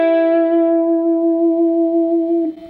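Electric guitar playing the opening lick of a song's guitar solo, one sustained bending note ringing with effects and reverb, loud and clear with no talking.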